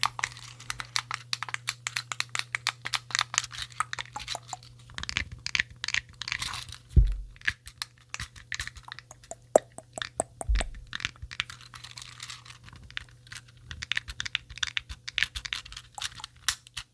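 Camera buttons are pressed over and over, a string of sharp close plastic clicks and taps in irregular bursts against a low steady hum.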